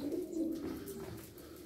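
Pigeons cooing softly in a nesting coop, a low steady coo rolling on for a couple of seconds, fairly quiet and close, with no voices.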